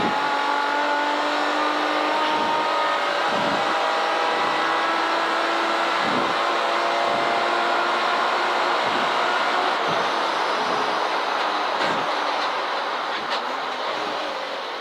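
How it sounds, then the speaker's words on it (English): An estate car races hard around the Castle Combe circuit in a CSCC Slicks & New Millennium Series event, its engine droning loud and steady throughout with rising and falling revs and periodic gear shifts, heard from inside the car. "Shouldn't be this easy to drive a bloody estate this quickly around a circuit"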